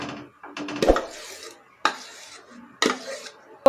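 A spoon stirs sugar syrup in a pan over a gas flame while orange juice concentrate is being made, giving a few loud, close metallic scrapes and clinks separated by brief pauses.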